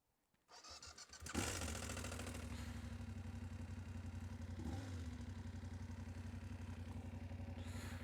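A BMW F750GS motorcycle engine cranks briefly, then catches and settles into a steady, close idle that runs to the end.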